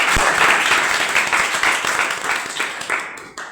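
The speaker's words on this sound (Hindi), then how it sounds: "इसके लिए ताली बजाओ जोरदार।" An audience at a talk on yoga for students breaks into loud, dense applause, many hands clapping steadily before it tapers off.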